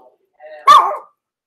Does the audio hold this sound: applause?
no